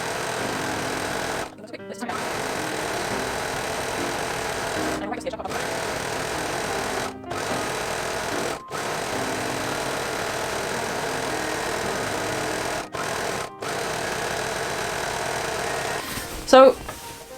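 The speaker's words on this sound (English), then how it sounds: "I'm going to serge all the way through these edges" An overlocker serges the edges of woven fabric with a loud, continuous whirring hum. The run is broken by a few brief stops before a final clunk.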